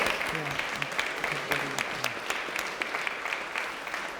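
Audience applause at a live presentation evening, steady dense clapping from a seated crowd lasting throughout, fairly close and even in loudness with no speech over it.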